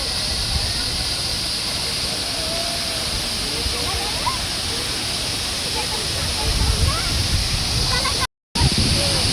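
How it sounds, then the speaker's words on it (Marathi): A tall waterfall near Poladpur pours from a height into the pool below: a dense, continuous roar close by and loud, steady for the whole stretch apart from a momentary dropout. "हे एवढ्या वरून पाणी पडतं"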